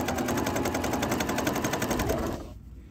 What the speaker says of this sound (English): So you would just sew right back along that stitch that you had before.